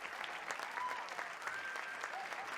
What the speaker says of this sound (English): don't you dare stop that applause.